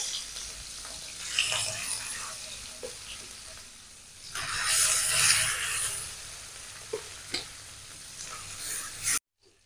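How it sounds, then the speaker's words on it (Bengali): Rohu fish pieces go into hot oil and fry with a soft, steady sizzle that swells loudly for a couple of seconds midway. A few sharp utensil taps break through before the sound cuts off. "এবার আমি তেলে দিয়ে দেবো মাছ। মাছটা হালকা ভাজা দেব।"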